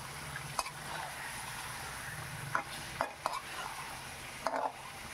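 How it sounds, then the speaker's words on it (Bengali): Chicken pieces fry lightly in hot oil for a chicken and potato curry, giving a steady soft sizzle broken by a few sharp clinks of stirring against the pan. "চিকেনগুলো আমি একটু ভেজে নিচ্ছি"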